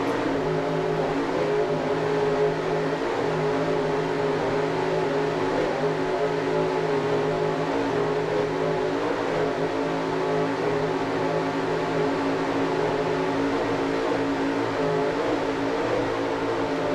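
Mercury-powered 40-foot Skater race boat engines roar steadily at a championship powerboat race in Key West, a constant loud, dense drone with no letup and no voices.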